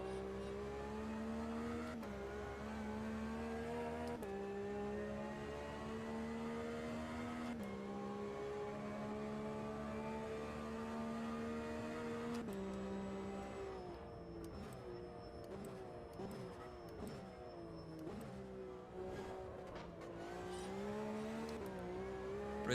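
A race car laps a track in the Assetto Corsa sim racing game, its engine droning and climbing through revs with repeated gear shifts and downshifts, close and steady throughout.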